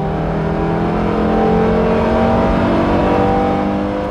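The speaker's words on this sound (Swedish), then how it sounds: "Pådragsljudet vid omkörning uppfattar en del som maffigt, medan andra tycker det låter som ett primitivt rått brölande." A 1991 car engine revving up under acceleration while overtaking, reaching 82 decibels at 6000 rpm, a loud, rough droning roar with rising tones, close and continuous.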